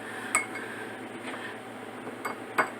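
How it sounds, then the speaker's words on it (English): A utensil stirring Parmesan Alfredo sauce in a pan over low heat, with a few light metallic clinks and scrapes at irregular intervals against a quiet background. "you want to keep stirring because you do not want your cheese to stick to the bottom"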